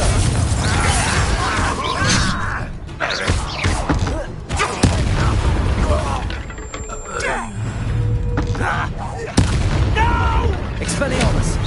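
Several Confringo blasting spells burst during a Hogwarts Legacy duel, bringing repeated booming impacts and crashes among other spell effects, with shouted dialogue between combatants over the fight.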